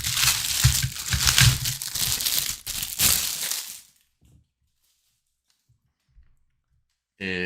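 Plastic parts from a 1/16 Takom Willys Jeep model kit being pulled out of the box: a few seconds of loud crinkling bag and rustling clatter, then near silence with faint taps before a voice starts.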